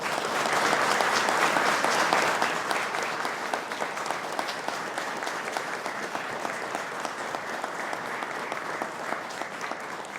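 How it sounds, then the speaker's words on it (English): Sustained applause from a large audience at a police recruit graduation ceremony, loud and dense at first and easing slightly but continuing steadily throughout. "please stand and give them a round of applause."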